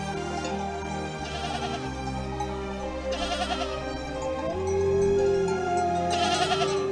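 Sheep and goats bleat at a livestock pen, several wavering calls spread over a few seconds, clear and fairly close, rising over a steady low background drone with no talk.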